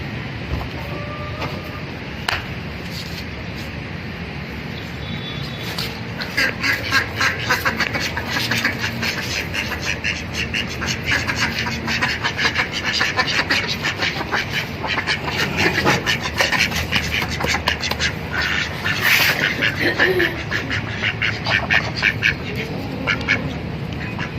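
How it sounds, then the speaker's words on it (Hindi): Backyard chickens at feeding time, clucking and squawking loudly and busily close by, with many overlapping calls building after a few seconds over steady outdoor background noise. "तो मेरे मुर्गियों का भी लंच का टाइम हो गया, तो अभी मैं उनको खाना दूंगा"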